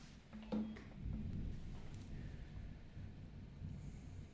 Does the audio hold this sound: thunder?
yes